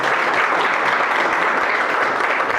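A crowd claps at a seminar in a sustained, evenly packed round of applause that is loud and near throughout, with no talking on top.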